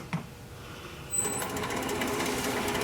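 A wood lathe spinning up a maple bowl blank: a quiet hum that jumps to a louder steady whirring drone after about a second, with a fast rhythmic flutter, close and continuous.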